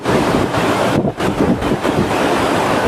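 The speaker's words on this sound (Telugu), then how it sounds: "గంగమ్మ హోరెత్తిపోతుంది కృష్ణమ్మ పరవళ్ళు" Loud, continuous roar of the Krishna River rushing through the open gates of the full Srisailam Dam, broad and turbulent, with surging swells and no voices.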